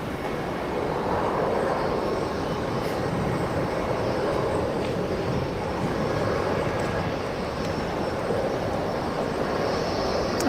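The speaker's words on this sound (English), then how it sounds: "we're just going to pan around, and then we'll catch that landing" An airplane landing at Sydney Airport, heard as a continuous broad jet roar that stays loud and steady throughout, distant yet filling the air, with no voices over it.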